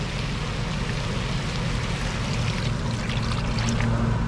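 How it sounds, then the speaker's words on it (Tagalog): Water pours into a pot of chicken tinola in a home kitchen, a steady broadband splashing and trickling stream running continuously and close by, with no talk over it. "maglalagay na tayo ng tubig"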